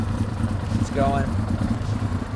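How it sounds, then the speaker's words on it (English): A Suzuki GSX-R1000 K6 motorcycle idles a little low, with a steady low engine rumble under someone talking. "you see it starts up just fine, but the idle's a little bit low"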